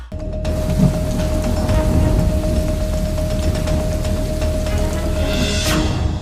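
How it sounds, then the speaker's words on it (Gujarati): Steady pre-monsoon rain pouring down, a dense continuous hiss with a faint constant tone beneath, holding at an even level with no voices. "કેટલાય વિસ્તારોમાં વરસાદ"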